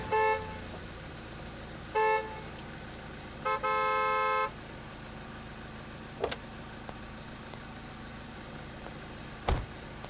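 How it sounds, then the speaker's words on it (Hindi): A car horn honks in three clear bursts: two short toots, then a longer held blast. A couple of sharp knocks follow over a low engine hum. "अरे भाई, ड्राइवर कब से हॉर्न मारता"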